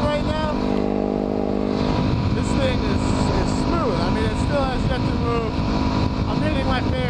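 A motorcycle rides along a road with steady engine drone and rushing wind heard up close from the rider's position, a continuous roar with a brief shift in engine pitch early on.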